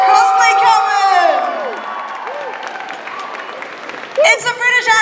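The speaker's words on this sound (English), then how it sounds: "Another round of applause for our Cosplay Coven!" Crowd at the Kumoricon anime convention opening ceremony applauding and cheering the Cosplay Coven, with whoops and clapping that swell loud, fade, then surge again near the end.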